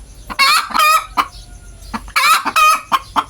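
Hybrid chickens cluck in loud, rapid bursts and crow, with a few short calls in between and brief pauses, all close by with no talking.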